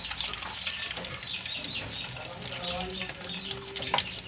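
Wild ohong mushrooms frying in a pan, a steady close sizzle and crackle of hot oil with small pops, continuing throughout with faint background noise.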